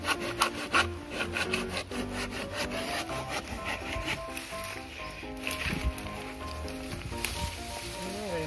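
Rough back-and-forth sawing through wood from a large fallen tree, a steady rasping, scraping rhythm close up and fairly loud, with layered grinding strokes and no talk.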